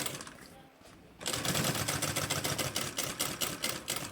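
A sewing machine stitching a backpack runs in a steady, rapid rhythmic chatter after a short pause, close and loud, with no talking over it.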